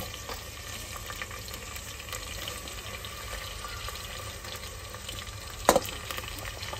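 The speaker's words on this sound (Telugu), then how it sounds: "ఉల్లిగడ్డ, పచ్చిమిర్చి వేసినాక కొద్దిసేపు ఇట్లా ఫ్రై చేసుకోవాలి." Onions and green chillies frying with spices for a mutton and sorrel-leaf curry give off a soft, even sizzle, with one sharp clink of a utensil near the end and no voices.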